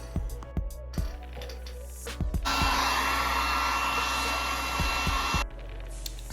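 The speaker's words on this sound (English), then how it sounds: "We're gonna use a hot hair dryer to dry the hair" A hot hair dryer blows steadily for about three seconds at close range, a loud continuous whoosh, with handling knocks and clatter before and after.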